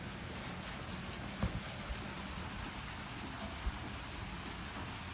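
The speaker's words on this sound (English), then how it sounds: "The rain's picking up." Rain pours steadily onto an old treehouse, a dense even hiss of drops on the roof and gutters with a few louder single drips standing out, no talking.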